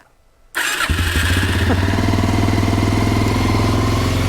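2007 Suzuki LTZ ATV quad engine starting after a silent moment, firing up abruptly and settling into a loud, steady, close idle with a buzzy rhythmic beat.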